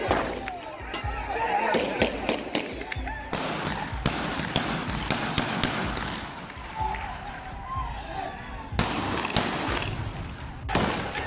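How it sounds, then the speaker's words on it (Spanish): Police fire shots into the air at a protest in Tamaulipas: a run of sharp, cracking reports, some close together and some spaced apart, over a rumbling outdoor background with a voice speaking. "los policías lanzaron disparos al aire"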